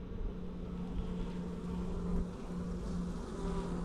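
Honey bees hum steadily around spring hives that have just been moved for the summer, a dense, continuous buzz close by with a low drone underneath.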